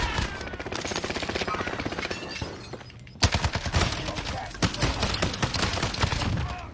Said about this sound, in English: Yeah, it's a broken shotgun.